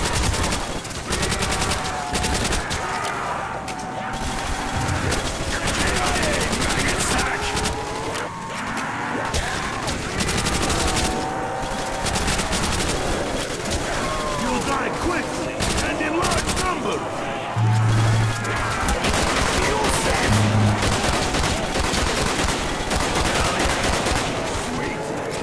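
Rapid gunfire from zombie-shooting gameplay rattles almost without pause, dense bursts layered with game effects while several players chatter and laugh over the shooting.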